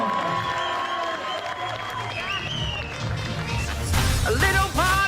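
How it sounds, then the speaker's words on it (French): Wedding guests clap and cheer in a lively crowd, the applause swelling toward the end amid chatter and bright voices. "On les applaudit très fort."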